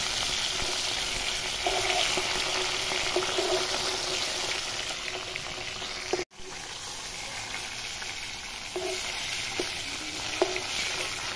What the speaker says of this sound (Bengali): মাছটা একটু নাড়িয়ে দেই, নেড়ে ছেড়ে উল্টাই পাল্টাই দেই মাছ, তাহলে ভালো হবে ভাজা